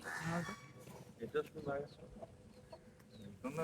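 A chicken clucks close by in a rural coconut grove where cows and buffalo graze. Short, scattered clucks come through while people talk over them.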